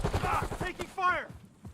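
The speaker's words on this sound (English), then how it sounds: "Taking fire!" Gunfire from the video game Call of Duty: Warzone: rapid bursts of shots mixed with in-game voice callouts, fairly loud and close throughout the short clip.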